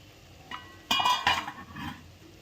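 Ghee-roasted semolina (rava) for sheera being stirred in a metal pan, with a few separate scraping clinks of the spoon against the pan around two distinct moments, close and fairly quiet, no voices.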